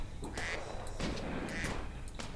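Ducks quack in a video game, two or three short nasal calls repeating over a steady background of game noise, fairly close and clear.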